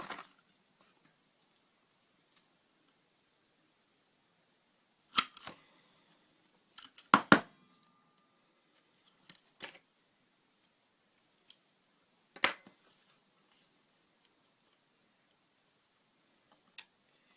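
Paper being cut with scissors for a mini toilet roll craft, a few separate snips and clicks scattered between long quiet gaps, close and fairly soft with no talking.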